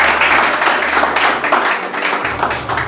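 A crowd at a handing-over ceremony applauds steadily, a dense wash of many hands clapping at once that carries on throughout without pause.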